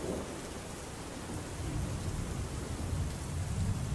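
Heavy rain during Cyclone Biparjoy near the Gateway of India in Maharashtra gives a dense, continuous wash of outdoor rain noise with a low rumble beneath, swelling slightly in the second half, with no voices.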